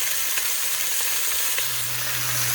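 Chicken pieces browning in a Dutch oven, giving a steady, close sizzle of frying with a faint low hum underneath and no talk.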